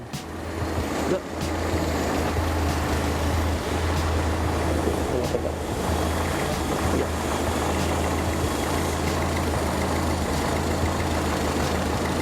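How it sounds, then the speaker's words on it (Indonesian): A small engine idles steadily and loudly while its idle speed is set with the throttle stop screw by the carburetor, a continuous low hum that holds even, with a brief dip near the start and no talk. "Untuk mengukur rotasi perputaran mesin, putar terlebih dahulu stasioner gas yang berada di dekat karburator."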